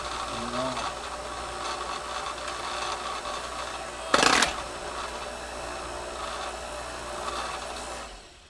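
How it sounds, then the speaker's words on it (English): A Power Smart PS90 electric log splitter's hydraulic pump runs with a steady, dense mechanical drone, broken midway by a brief loud burst as the lever is pushed, then cutting off abruptly at the end. "Start the pump, push down the lever,"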